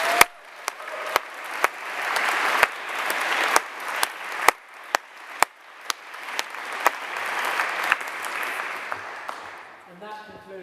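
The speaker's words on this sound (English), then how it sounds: "a round of applause for Kevin." A crowd applauds steadily for several seconds at a graduation and prize-giving ceremony, with sharp, loud individual claps popping out above the general patter.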